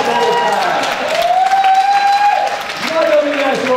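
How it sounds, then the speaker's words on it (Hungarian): A crowd at a Hungarian wedding entertainment claps together, a sustained burst of applause running alongside a loud sung or spoken voice with drawn-out tones. "tapsot neki, Sancikál"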